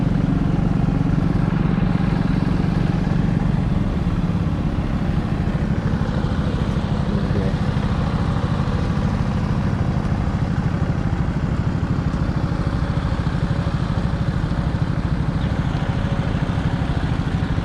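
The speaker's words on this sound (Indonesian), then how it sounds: "Jadi di sini masih pakai traktor kecil, teman-teman." A small tractor engine chugs steadily and loudly throughout, a continuous rattling drone with no pauses, close by, in rice fields in rural Aceh.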